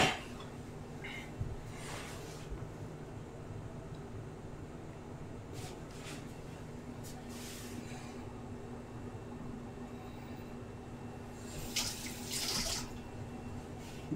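A kitchen tap runs water at low level, a steady faint wash broken by a few brief splashy bursts near the start and end, with no one talking.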